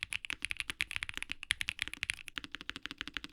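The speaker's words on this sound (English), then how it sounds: "I've got the Azoth Extreme keyboard in the building, and TLDR, it looks and sounds amazing" Fast typing on an Asus ROG Azoth Extreme mechanical keyboard, a dense run of crisp, close keystroke clicks with a steady rhythm and no talking.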